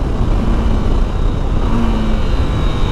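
A KTM 890 SMT motorcycle engine roars steadily up close, a loud continuous engine drone with a slight rise in pitch.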